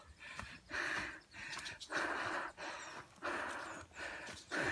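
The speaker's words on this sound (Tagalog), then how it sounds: "At ako'y nahingal na." A hiker breathes heavily, panting in repeated loud gasps while climbing Mt. Malindig in Marinduque, each breath close and rhythmic with brief pauses between.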